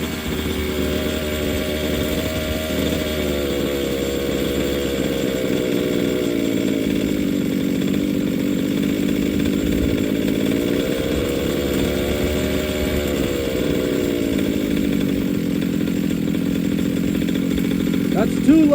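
A Fuelie 30cc 1/5 scale engine with a Walbro carburetor runs nearby with a steady, buzzy two-stroke drone that dips and rises slightly as the idle is adjusted, with speech over it.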